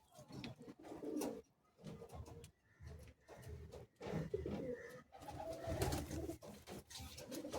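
Madrasi pigeons in a cage coo in repeated rhythmic bursts, close and fairly quiet, with short gaps between the throaty rolling calls.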